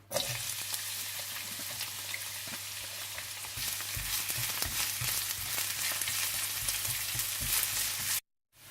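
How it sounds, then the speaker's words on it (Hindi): Steady crackling sizzle of onions frying in hot oil, continuous and close, with a low hum underneath and occasional louder pops, ending abruptly. "आप तेल गरम कर लें। और इसमें आप प्याज डालकर हल्की सी ब्राउन कर लें।"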